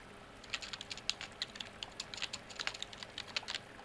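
Quick bursts of computer keyboard typing, close and crisp, clicking in an uneven run of keystrokes with brief pauses, no voice over it.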